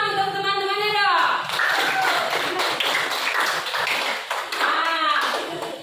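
Classmates clap for fellow students after a classroom performance, a ragged scattering of hand claps under a teacher's voice, which talks over the applause at the start and again near the end.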